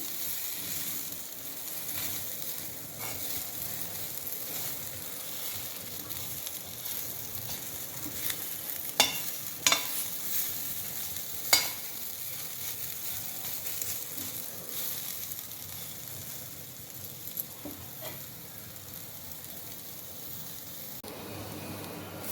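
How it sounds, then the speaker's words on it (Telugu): Bitter gourd sizzles steadily in a pan, a soft continuous hiss broken by occasional scraping and clinking as it is stirred. "కాకరకాయలు అయితే మనం మధ్య మధ్యలో ఇలా కలుపుకుంటూ ఉండాలి"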